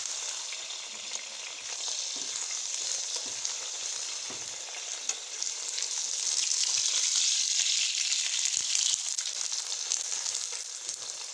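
Lachha paratha frying in a pan with desi ghee, giving a steady close sizzling hiss that runs alone throughout and swells somewhat louder in the second half.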